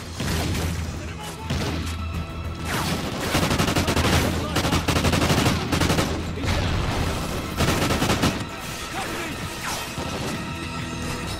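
Rapid bursts of automatic gunfire and crashing impacts fill a Call of Duty: Ghosts single-player firefight, loud and dense throughout with brief lulls, and a player's voice can be heard over it.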